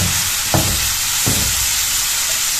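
Chopped spicy ingredients for menemen fry in a pan with a steady, loud sizzle, broken by two brief scraping stirs about a second apart.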